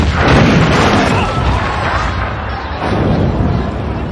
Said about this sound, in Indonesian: Ledakan itu pun dimanfaatkan oleh Zhao untuk segera kembali ke ruangan pribadinya